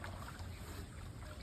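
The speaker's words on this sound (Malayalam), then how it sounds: "വള്ളം തുഴയുന്നുണ്ട്" A wooden country boat is rowed along the Kuttanad backwaters, giving a faint, steady wash of water and hull noise that runs alone for the whole moment with no talk.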